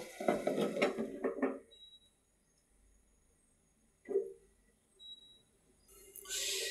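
A lid set onto a pot of mola fish chorchori with eggplant and pui greens, topped with coriander leaves, rattles against the rim in a quick cluster of metallic clinks, then one short clack a few seconds later, in a quiet kitchen.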